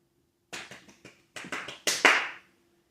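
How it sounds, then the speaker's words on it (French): Short bursts of hand clapping from a small audience at the Parc Saint-Paul amusement park, starting sparse and swelling into a louder, denser round before cutting off, with no talk over it. "on applaudit très fort"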